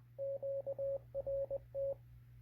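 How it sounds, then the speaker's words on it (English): A steady electronic tone beeps in short and long pulses, a Morse code pattern from a Raddy RF919 multi-band radio receiver, played over a low constant hum. "we just heard the Morse code again"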